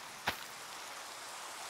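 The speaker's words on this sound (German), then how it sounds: "Guckt euch mal an, wie geil der Regen aussieht." Rain falling in Minecraft 1.19 is a faint, steady hiss that continues throughout, broken once near the start by a single brief tick.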